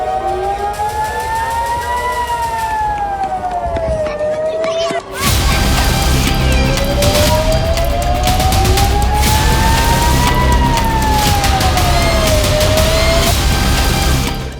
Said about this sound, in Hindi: इजराइल की राजधानी तेल अवीव में एक सायरन बजा